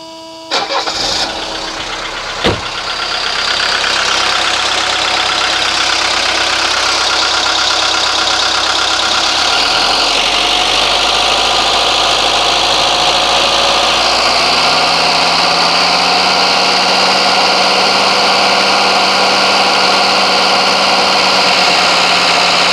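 A 1983 Mercedes 240D diesel engine cranks briefly, catches and settles into a steady, loud clattering idle that runs close and alone for the rest of the stretch.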